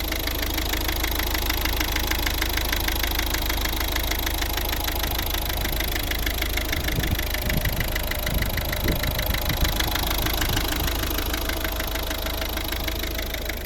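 A 2011 Volvo V50 R-design's 1.6-litre eight-valve 115 hp diesel engine idling steadily with a rough, even clatter and vibration, constant and fairly loud, with no voices.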